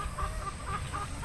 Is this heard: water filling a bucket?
no